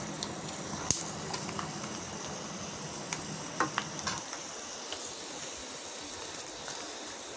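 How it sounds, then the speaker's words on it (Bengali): Food frying in a pan on a stove turned to full heat, giving a steady continuous sizzle with occasional stirring clicks and scrapes, close and moderately loud, with no talking. "চুলোর আঁচটা কিন্তু একদম ফুল আঁচ দিতে হবে, তাহলে এটা তাড়াতাড়ি ফ্রাই হবে"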